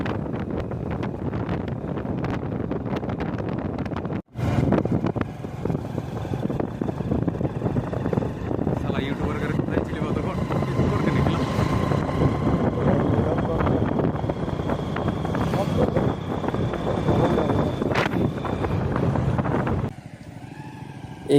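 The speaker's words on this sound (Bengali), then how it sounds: "তারপর পুনরায় আবার বাইক স্টার্ট দিলাম" A motorbike ridden on a road near the Hayatpur bridge over the Ajay river, with steady engine drone and heavy wind buffeting, a brief dropout early on and a voice speaking over it.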